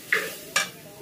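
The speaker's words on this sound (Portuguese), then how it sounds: "Eu tava colocando alho na panela" Garlic frying in pork fat in a pan gives two sharp, close sizzling bursts about half a second apart, each fading into a softer hiss.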